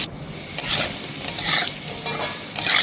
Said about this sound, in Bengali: আলু ভেজে নিচ্ছি।